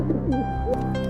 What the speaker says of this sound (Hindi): रास्ते में उसे एक घायल कबूतर दिखा। वो दर्द से कराह रहा था।